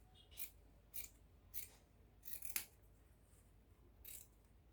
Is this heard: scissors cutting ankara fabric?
yes